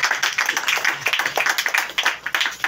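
A church congregation claps together in a steady, fast rhythm, many hands close and crisp, with no voices.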